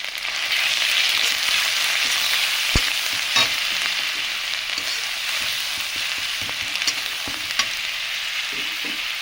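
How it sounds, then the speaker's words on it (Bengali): Spice paste of poppy seed, onion, dried chilli and turmeric fried in oil for a Bengali pumpkin-stem chorchori with small shrimp, a steady close sizzle with occasional scraping stirs and light spatters. "দিয়ে ভালো করে মশলাটা আমি ভেজে নেব।"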